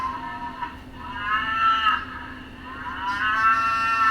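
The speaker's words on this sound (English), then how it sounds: "this is one of the sound books right here, and when you touch it, it makes a sound." A cow mooing from a toddler's animal sound book speaker, a long drawn-out bellow that dips and rises again, slightly thin and tinny.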